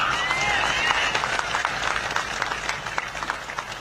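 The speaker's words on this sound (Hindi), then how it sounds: "ये तालियां मेरे अंदर ऐसा जोश भरती हैं" An audience at a political speech breaks into sustained applause, a thick wash of many hands clapping together with crowd noise that gradually thins toward the end.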